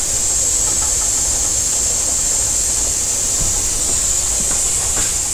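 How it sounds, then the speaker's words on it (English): Steam vents from a pressure canner in a constant, loud hiss that never lets up, with no voices over it. "There's steam coming out of that thing."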